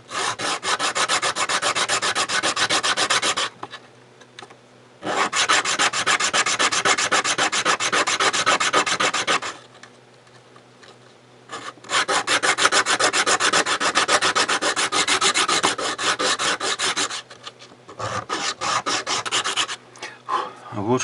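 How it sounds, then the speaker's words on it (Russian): Sandpaper is rubbed hard and fast against a small piece in three long, loud stretches of raspy scraping, with brief pauses between them and no talking. "Подровняем наждачком."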